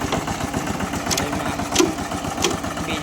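A tractor engine idles with a steady low chugging rhythm, close by, with a few faint clanks over it.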